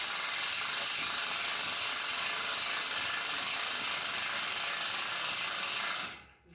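A hand-crank winch on a sliding rail base is lowered gradually, giving a continuous close mechanical ratcheting whir that stops abruptly at the end.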